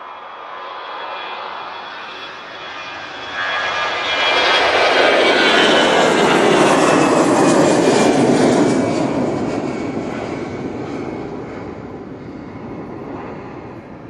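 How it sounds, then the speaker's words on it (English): A Virgin Atlantic airliner arrives at Manchester Airport, its jet roar swelling to a loud, broad rush near the middle, then easing into a steady fading rumble. "Virgin Atlantic coming in."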